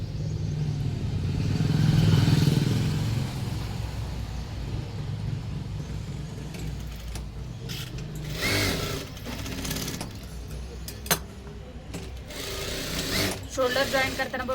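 A domestic sewing machine runs in bursts while joining the shoulder seam of a four-tuck blouse, whirring and rattling close by, with someone talking over the stitching.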